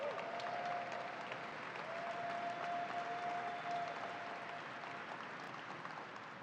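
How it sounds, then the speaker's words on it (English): A crowd applauds at the opening of the New York State Fair, a dense, steady wash of clapping that carries on throughout and fades slightly toward the end. "That is my husband, Bill Hochul, so let's give him a round of applause"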